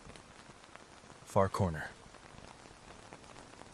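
Steady rain falls at night as a soft, even patter under a quiet murmur, with someone briefly speaking two words midway before the rain continues alone.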